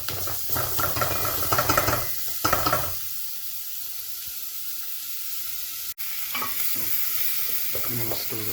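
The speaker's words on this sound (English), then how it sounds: "So the onions have been going for about 5 minutes now and they're starting to caramelize" Onions sauté in a pot for a bean and lentil soup, about five minutes in and starting to caramelize. A close, steady frying hiss runs throughout, with louder bursts of stirring near the start and again toward the end.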